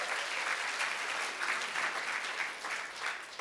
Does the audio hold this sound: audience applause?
yes